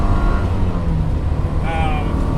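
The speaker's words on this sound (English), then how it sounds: "Engine runs smooth and strong." A Porsche 944 engine running as the car drives, a steady low motor hum with road noise close by, and someone talking over it.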